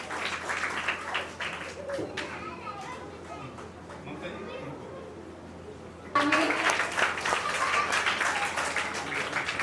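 An audience applauds at the 8th anniversary event of the Saroj Seva Sansthan charity, with moderate clapping and chatter at first, then a much louder, fuller burst of applause in the second half.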